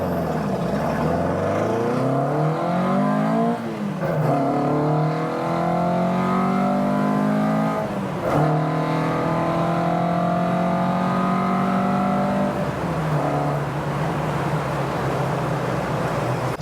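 A powerful engine in a Mk2 Ford Cortina 1600E classic car revs up repeatedly, rising in pitch in several long pulls with brief drops between, loud and close.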